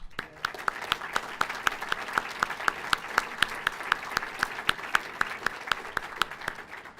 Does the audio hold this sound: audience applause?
yes